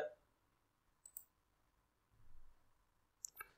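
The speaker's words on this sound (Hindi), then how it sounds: "अब वो कह रहा है कि गेट हेयर मैं गेट हेयर पर मैंने क्लिक किया" Computer mouse clicks on a download button, a few faint, sharp single clicks in a quiet room.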